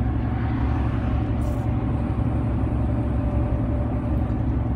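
A 2009 Mercedes Actros truck with a newly changed diesel filter pulling uphill, a steady low rumbling engine drone heard from inside the cab, continuous and fairly loud with no speech.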